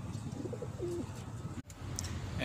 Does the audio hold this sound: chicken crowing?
no